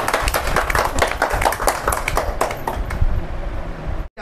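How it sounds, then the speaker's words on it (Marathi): A small crowd claps for a girl who wants to become an IAS officer, a dense patter of hand claps running steadily for about four seconds before stopping abruptly. "टाळ्या वाजवा जरा"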